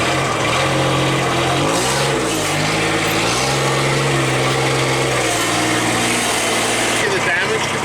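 A riding lawn mower engine runs steadily at close range, its pitch rising and falling as it is driven around, with a constant buzzy drone throughout.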